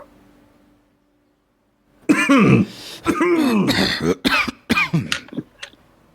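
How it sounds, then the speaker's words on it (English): Two harsh coughs, then throat clearing and rough hacking follow in quick succession, close and loud after a quiet start. "Can I get a double cough?"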